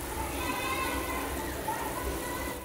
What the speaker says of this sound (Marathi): आपण 2 मिनिटं उकळून घेऊया।